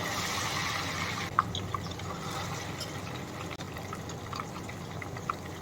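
Ghevar batter trickles in small portions into hot oil in a kadhai, making a continuous hissing, bubbling fry with occasional faint drips and pops, fairly quiet and steady.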